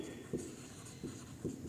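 Three brief, soft scratching strokes of writing on a board during a biology lesson on neural control and coordination, spaced evenly and heard alone at low volume in a quiet room.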